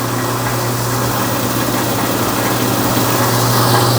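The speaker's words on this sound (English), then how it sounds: "I just turned the blower fan up." A BDG Compact 1 mini plastic granulator runs with its blower fan turned up, a loud, steady mechanical drone and whir holding constant throughout with no talk.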